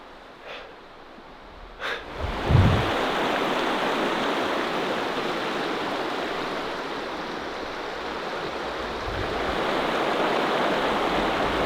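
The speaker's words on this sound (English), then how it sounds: "The river." A river stream rushes in a steady, broad wash of water after a few faint breaths and rustles at the start. It stays loud and close without a break.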